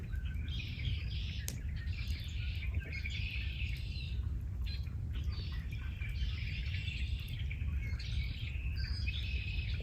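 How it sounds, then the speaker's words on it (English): Birds chirp and sing repeatedly in short bursts over a constant low rumble, somewhat distant and layered, outdoors on a farm beside a fire. "You can literally just hear the birds singing"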